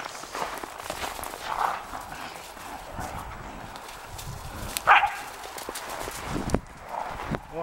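A dog barks a few times, short sharp bursts over a noisy background with shuffling footsteps and faint voices.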